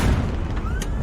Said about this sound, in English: A lot of unguided rockets, perhaps. Stand by. Stand by. Fire.